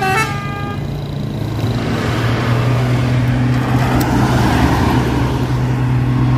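A Mitsubishi 6x2 truck labours up a steep, narrow hill. A few short horn toots at the start give way to a loud, sustained engine drone that holds steady throughout.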